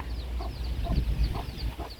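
Backyard village chickens give repeated, evenly spaced clucks over a low ambient hum, close and moderately loud with no talking.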